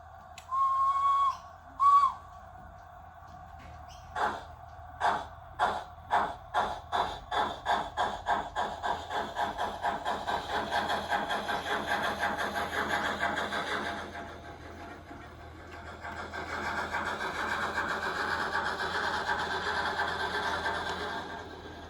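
A DCC sound decoder in a model steam locomotive gives two short whistle blasts, then chuffs that start slow and quicken into a rapid, repetitive beat as the loco gains speed.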